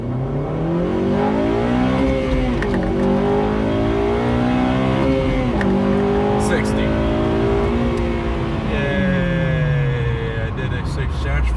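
A Honda Civic Si FG2 launches from about 3,000 RPM and pulls hard, the engine note climbing through rising revs with a brief drop at each gear change, loud and close, with voices heard over it.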